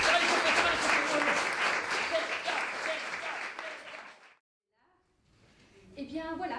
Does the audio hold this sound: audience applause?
yes